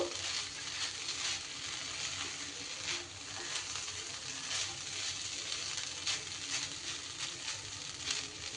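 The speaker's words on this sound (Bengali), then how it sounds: "একটু নাড়াচাড়া করে সব কিছু মিশিয়ে দেবো" Dalia pulao with boiled potatoes sizzles softly in a pan as it is stirred and mixed, a faint steady frying hiss with light scraping patter.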